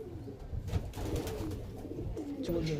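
Pigeons coo in a loft, soft low rounded calls overlapping steadily and close by, with a faint murmur of other birds behind.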